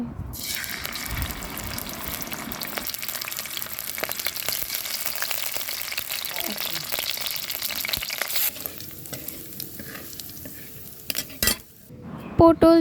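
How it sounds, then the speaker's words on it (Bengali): Prawns fry in mustard oil in a wok with a steady, close sizzle, mixed with stirring and scraping sounds. The frying fades toward the end, then a few clinks follow. "কড়াইতে সরিষার তেল দিয়ে আমি এখন অল্প কিছু চিংড়ি মাছ ভাজবো"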